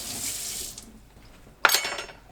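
Tap water runs briefly into a kitchen sink for a rinse, a soft splash that fades, then a sharper burst of water hitting the basin, near and without talk.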